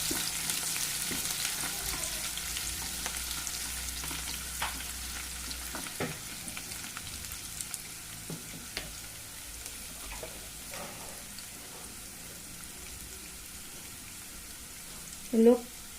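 Chopped onion frying on medium heat for a restaurant-style palak paneer curry, a faint steady sizzle with occasional soft stirring clicks and a brief louder knock near the end.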